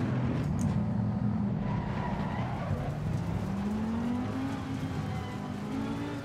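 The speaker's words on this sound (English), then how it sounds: "Okay, so let's turn on the car." A car engine in a racing sim video game idles and runs as a loud, steady low drone whose pitch creeps slowly upward, with no talking over it.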